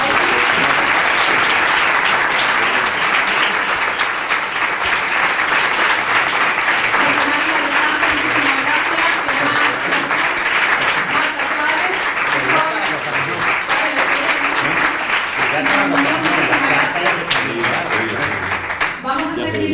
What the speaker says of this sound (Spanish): Primero un fuerte aplauso,